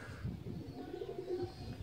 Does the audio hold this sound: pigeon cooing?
yes